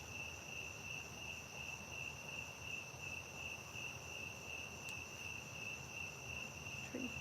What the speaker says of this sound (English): Tree frog. It may be tree frogs.